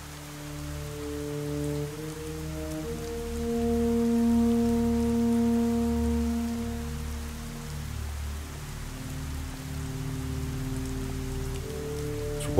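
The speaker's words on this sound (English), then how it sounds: "Walking home in the rain." Steady rain falls in a video game, a continuous hiss of drops on surfaces under sustained low, droning music tones, even and moderately loud throughout.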